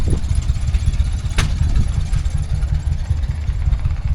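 A Fordson Major tractor engine runs steadily nearby at a loud, even idle, with a dense low rumble and one brief sharp knock partway through.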